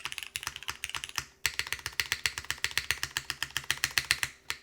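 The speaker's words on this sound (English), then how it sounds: "I think both sounds of the spacebar sounds good" Constance TKL mechanical keyboard being typed on, with a tuned spacebar giving a deep tone: a fast, steady run of close, crisp clacks, briefly pausing before the rhythmic keystrokes resume, with no voices.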